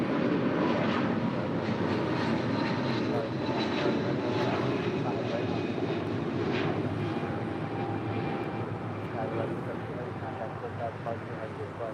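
An airliner takes off from runway 25 right at LAX with a broad, steady jet roar that fades slightly as it goes, while a radio voice and a person talk over it.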